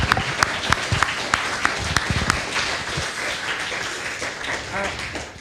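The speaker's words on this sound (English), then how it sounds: "A huge round of applause." Applause from an audience at an annual lunch event, a sustained round of clapping with a few sharper claps standing out early, fairly close and steady throughout.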